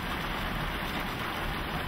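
Steady rain falls in the African wild where lions play in the open, a dense even hiss of drops with no breaks, close and moderately loud throughout.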